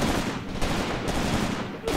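Dense, continuous MG42 machine gun fire in the Graviteam Tactics war game, with sharp bursts breaking through a steady roar of battle noise.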